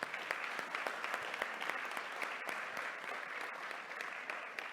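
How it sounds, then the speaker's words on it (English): Applause from the audience at a corporate investor day event, a steady, moderately distant wash of many hands clapping continuously without talk. "One more round of applause."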